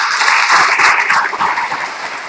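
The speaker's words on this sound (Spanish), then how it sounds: "démosle un aplauso a ese hermano" A congregation at an evening church service claps to welcome a first-time visitor, a dense burst of loud, close applause lasting a couple of seconds.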